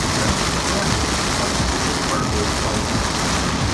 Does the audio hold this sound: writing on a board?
no